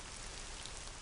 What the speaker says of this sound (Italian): Vediamo allora che cosa accade alla prima pioggia.